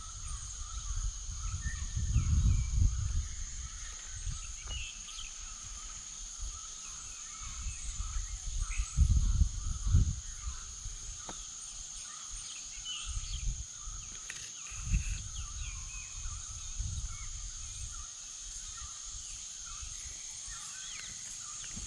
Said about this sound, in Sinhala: එක එක කුරුල්ලන්ගේ ලස්සන කටහඬවල් ඇහෙනවා.